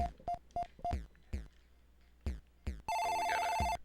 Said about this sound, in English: Oh, we got a dial tone.